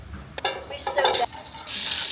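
Fish and mushrooms are stirred in a hot pan, giving bursts of scraping and sizzling in uneven strokes that end in a louder sustained hiss.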